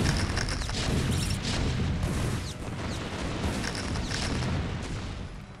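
Siege tank fire during a Terran versus Terran battle in StarCraft: Brood War Remastered, a thick wall of overlapping cannon booms and explosions rolling continuously with no pause.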